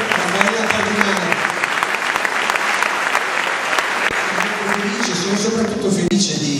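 A concert audience gives the Pietro Mascagni orchestra, conducted by Andrea Palinari, a big round of applause, loud continuous clapping from a full hall with voices rising faintly within it.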